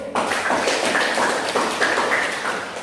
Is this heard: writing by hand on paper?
no